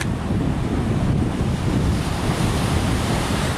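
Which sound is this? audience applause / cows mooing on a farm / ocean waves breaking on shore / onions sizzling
ocean waves breaking on shore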